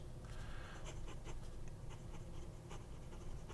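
A Hongdian Black Forest fountain pen with a fine, stiff nib scratches faintly across paper in short repeated strokes, quiet against a steady low background hum.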